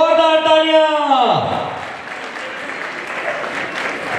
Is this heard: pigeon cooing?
no